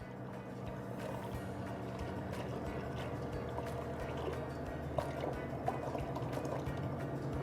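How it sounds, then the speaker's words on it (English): Mascarpone gelato mix poured into a GX8 fresh gelato machine, a soft continuous liquid pour over a steady mechanical hum, faint and even, with a couple of small clicks near the end. "I'll pour the whole product."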